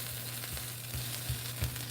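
Close, steady sizzling of a quesadilla frying in a pan, a continuous crackle with small pops and a low hum underneath.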